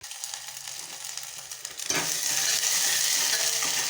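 Chopped tomatoes for chicken biryani sizzle loudly in a hot pan, a steady hiss that jumps up sharply about halfway through after a quieter start with faint scraping.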